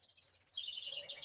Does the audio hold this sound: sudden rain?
no